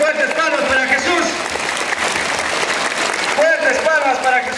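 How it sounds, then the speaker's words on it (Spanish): Children and adults at a Christmas parish event in Pomabamba clap loudly for Jesus, a dense sustained burst of applause with a voice speaking over it at the start and end. "A ver, fuertes palmas para Jesús."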